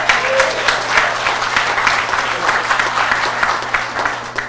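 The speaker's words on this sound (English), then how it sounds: "it feels really good when people applaud" An audience at a town hall gives a round of applause, a loud, dense patter of many hands clapping steadily for the whole stretch with no talk over it.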